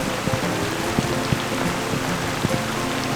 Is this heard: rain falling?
yes